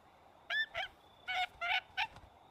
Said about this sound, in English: Stop calling your bird.